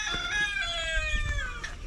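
Chickens cluck and cackle close by on a farm where ducks are also kept, with a rooster's drawn-out call rising over the flock; no voices, just farmyard birds.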